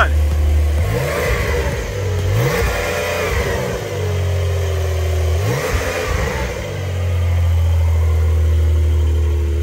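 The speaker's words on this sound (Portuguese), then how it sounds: "Tô acelerando ela." A car engine revs up repeatedly from idle, rising and falling in several loud, close bursts with a low rumble between them.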